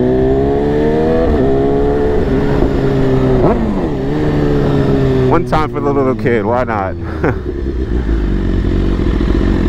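BMW S1000RR sport motorcycle on a run out to Coney Island, its engine droning steadily under talk and then revving in several sharp, loud bursts near the end.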